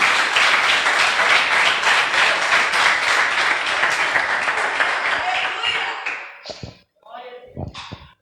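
Congregation in a church service applauding, a dense sustained wash of many clapping hands that thins out toward the end into scattered claps and a few voices.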